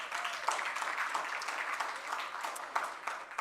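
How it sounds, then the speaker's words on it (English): Stakeholder roadshow audience giving a round of applause, many hands clapping at once in a lively, even burst with occasional sharper claps standing out, no talk heard. "Let's give them a round of applause."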